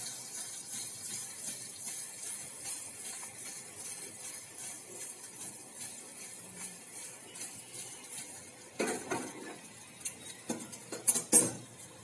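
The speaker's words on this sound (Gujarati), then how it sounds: "આપણે જે ટુકડા કરીને રાખેલા છે ખાટા ઢોકળાના તે અંદર ઉમેરી દઈશું" A metal spoon stirs and scrapes pieces of sour dhokla in a pan during tempering, with quiet clinks throughout that grow louder and sharper toward the end.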